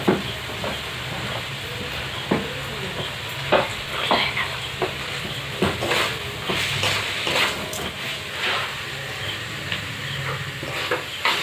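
Chicken fries for a chicken pasta dish, sizzling steadily in a pan while a spoon or spatula scrapes and stirs it in repeated strokes, close and clear with no talk.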